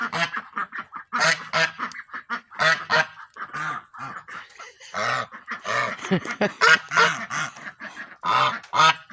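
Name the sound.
ducks near the duck house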